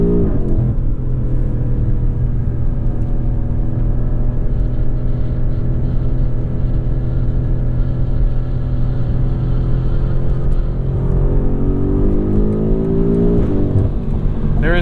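A 2021 BMW M5's 4.4-liter V8 pulls hard up an on-ramp, its loud steady engine drone rising in pitch through the gears from inside the cabin, with no talking.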